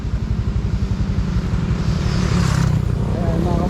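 Motorcycles being test ridden on a road by local youths near Nasugbu, Batangas: a loud, close engine with a pulsing putter that swells into a revving roar, under steady outdoor noise.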